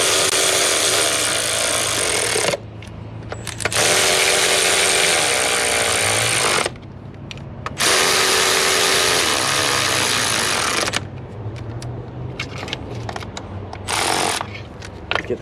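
Power tool driving and tightening bolts on a 6.7 Cummins EGR cooler during an upgraded cooler install, loud bursts of whirring rattle in several runs of a few seconds each, separated by short pauses, close up.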